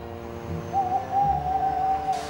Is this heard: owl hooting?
yes